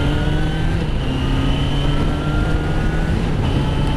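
A six-speed motorcycle accelerates on the road, its engine roaring loud and close with a steady rising drone and strong wind rush, no voices over it.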